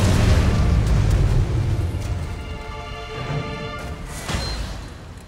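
A missile explosion from the mobile strategy game CnC Rivals lands as a heavy boom that decays into a long, crackling rumble, with a smaller burst near the end.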